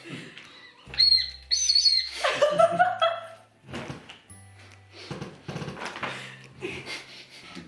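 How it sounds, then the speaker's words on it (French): Shrill seagull cries ring out near the start, followed by muffled knocks, rustling and a few voices. "Le cri des goélands dans le vent du large."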